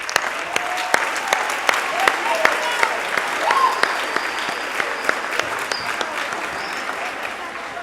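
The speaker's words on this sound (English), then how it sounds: "can we give our students a round of applause" An audience at a middle school spring concert claps for the student musicians, producing a dense, steady round of applause throughout with a few sharper individual claps.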